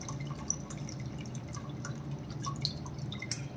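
Soaked tamarind water drips and trickles into a pot of fish curry, making close, irregular liquid plinks over a low, steady background hum.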